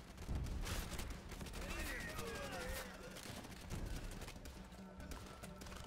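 Rapid automatic bursts from a Tommy gun in the World War II shooter Call of Duty: World at War, sustained loud chattering fire mixed with battle noise and a voice speaking over it.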